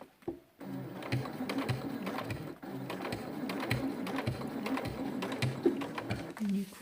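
A sewing machine stitching a swimsuit runs in a steady, even whir with short pauses between bursts. It sounds close, and a person speaks quietly over it.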